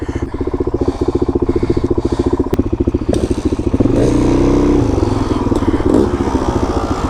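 A dirt bike engine, a KTM300 or DRZ400, runs loudly and close by with a steady rapid throbbing idle that swells into higher revving midway, with some clattering and faint voices underneath.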